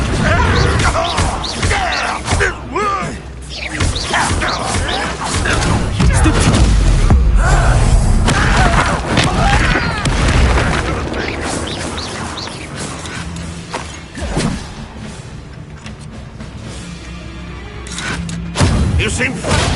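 Confringo blasting spell explosions during combat in Hogwarts Legacy on a cursed mountain, loud booms and crashes mixed with impact thuds and game effects under shouted spell incantations and other voices.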